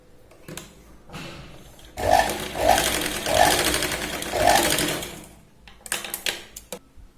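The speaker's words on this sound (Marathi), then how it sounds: "शोल्डरला आपल्याला 2 ते 3 वेळा व्यवस्थित शिलाई लावायची" An electric sewing machine stitches a blouse shoulder seam in several bursts, each a fast mechanical rattle with rhythmic needle ticks, loud and close, separated by short pauses and handling noises.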